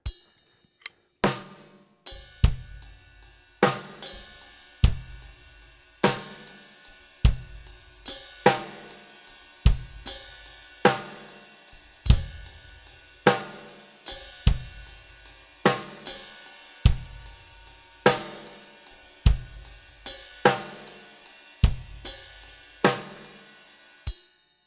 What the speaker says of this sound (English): get the ride cymbal and the kick and the snare going, and then focus on bringing in the hi-hat